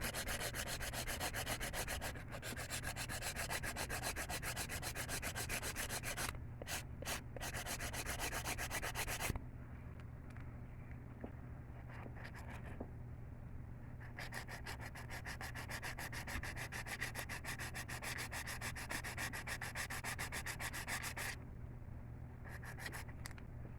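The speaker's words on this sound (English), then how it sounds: "You definitely want to make sure the acrylic is dry before you start filing down any lumps you may have" A nail file sands down dry acrylic on encapsulated nails. Quick, close back-and-forth rasping strokes run steadily throughout, broken by a few short pauses.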